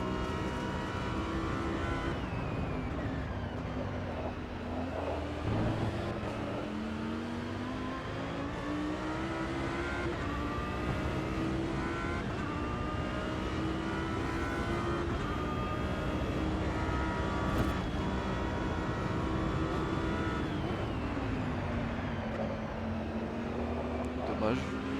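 An Audi R8 GT3 race car in the racing game Automobilista 2 at Kyalami drones and revs continuously, its pitch rising and dropping through gear changes. A person talks over the engine.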